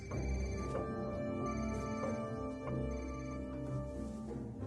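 A telephone rings in a Hindi-dubbed South Indian action film, steady repeating electronic ring tones over a dense music score, no talk.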